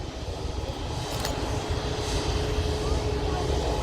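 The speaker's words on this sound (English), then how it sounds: "just touching down, we have an Airbus A319-100 operating British Airways shuttle flight from London Heathrow" A British Airways Airbus A319-100 in retro BEA livery landing at Manchester Airport, a steady broadband engine roar heard from a distance, slowly building in loudness and held throughout.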